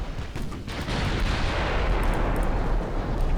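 Naval guns in the warship battle game Ultimate Admiral Dreadnoughts fire high-explosive shells, their heavy booms blending into a dense, continuous rumbling roar close at hand.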